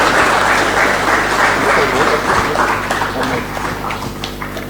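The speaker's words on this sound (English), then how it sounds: "And let's have a big round of applause." A big round of applause fills a launching ceremony for a new Indo-French dual master's degree in sports industry, steady dense clapping from a large crowd that holds loud throughout and thins slightly toward the end, with faint voices beneath.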